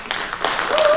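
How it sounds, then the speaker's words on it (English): Audience clapping at a comedy show, a steady patter of applause rising slightly in loudness over a second, with a faint tonal whistle near the end. "Clap if you are married."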